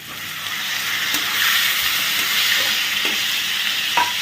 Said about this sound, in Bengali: এবারে পুরো চিকেনটা যে ছোট ছোট করে কেটে রেখেছিলাম সেই চিকেনটাকেও দিয়ে দিচ্ছি।